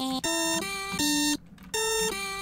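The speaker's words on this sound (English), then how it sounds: "Why am I just hearing an alarm?" Electronic alarm in a Friday Night Funkin video game mod: loud repeating steady tonal beeps in several long pulses with a short gap near the end, no talk.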